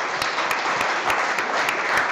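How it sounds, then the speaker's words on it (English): Audience applause fills the room at a chef competition event, a steady, dense wash of clapping that holds at an even level for about two seconds with a few sharper individual claps standing out. "That's worth applauding."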